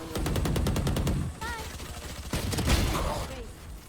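Rapid automatic gunfire from the Valorant shooter game, a dense burst of repeated shots up front, then scattered bursts mixed with game voices and effects.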